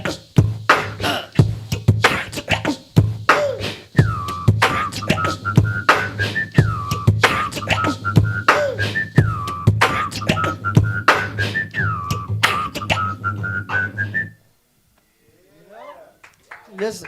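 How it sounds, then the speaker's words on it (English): Repeated whistled sliding notes ride over a looped beat with sharp percussive hits, then the music cuts out to near silence. "Just a whistle, making weird noises."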